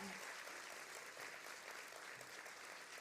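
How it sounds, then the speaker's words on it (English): A crowd at a university business school graduation ceremony applauds steadily and loudly, dense clapping filling the space without pause, with a faint voice briefly audible under it. "join me in giving them a really thunderous round of applause"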